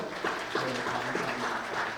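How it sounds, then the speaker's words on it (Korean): Congregation clapping at a Sunday church service, a steady moderate wash of applause from the gathered worshippers, with faint voices mixed in. "박수 한번 해주시자고요"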